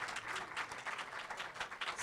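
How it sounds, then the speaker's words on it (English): A theatre audience gives a sustained round of applause after a screening of the film Wonderstruck, steady dense clapping at moderate distance with no voices over it. "Let's have another huge round of applause"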